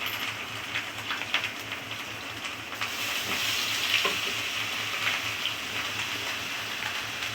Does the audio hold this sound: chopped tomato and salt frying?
yes